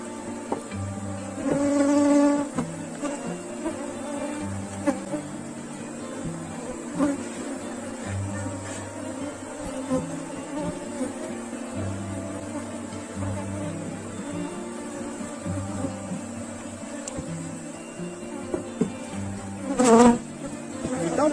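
A honeybee swarm buzzes at a beehive, a dense continuous insect hum close by with a few louder swells as bees pass near, no voices over it.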